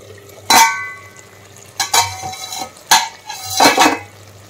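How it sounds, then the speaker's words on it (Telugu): Vegetables cooking for a Telugu pappu charu are stirred in a metal pot, giving four or five loud scraping, clattering strokes of a ladle against the pot, close up, with soft sizzling between them. "మధ్య మధ్యలో కలుపుతూనే ఉన్నానండి."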